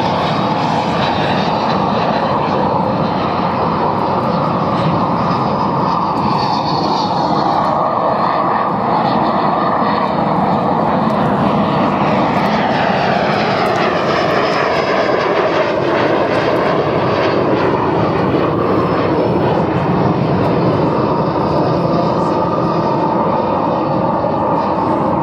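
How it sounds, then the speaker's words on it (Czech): An L-39 Albatros jet trainer flies at an air show in Čáslav, a loud continuous engine roar with a rising and falling whine as it passes, with no speech. "Blíží na přistání letoun ve variantě ZA."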